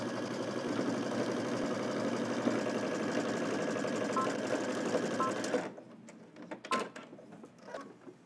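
A sewing machine runs a long continuous seam, a steady close hum for several seconds that stops abruptly, followed by a few light clicks and handling noises.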